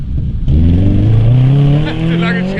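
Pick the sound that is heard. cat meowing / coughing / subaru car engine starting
subaru car engine starting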